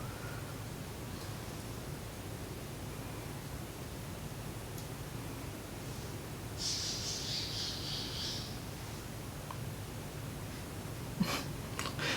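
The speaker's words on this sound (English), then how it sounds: "That's my bird pitching a fit." A pet bird squawks in a brief, moderately loud burst partway through, set against steady room hiss and low background noise, with a couple of faint clicks near the end.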